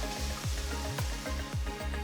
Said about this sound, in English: Add a few curry leaves and saute them for at least about a minute.